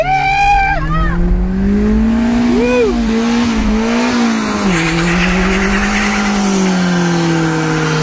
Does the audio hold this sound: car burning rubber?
yes